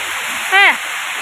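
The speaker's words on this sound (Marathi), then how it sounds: "इतकं वारं सुटलं या" Strong wind and heavy rain lash a home during a sudden storm, with coconut trees nearby; a steady, loud rushing hiss fills the whole stretch, and a short tonal voice or cry rises briefly in the middle.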